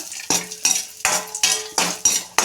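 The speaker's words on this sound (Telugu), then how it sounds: "వేసుకున్నాం జీడిపప్పు, కిస్మిస్ వేసుకొని అలా ఒకసారి ఇలా ఒకసారి వేసుకుందాం నెయ్యిలో" Cashews and raisins fry in hot ghee while a metal spoon stirs and scrapes the pan, giving sharp regular clinks about every third of a second over a soft, steady sizzle, close and loud, with no talking.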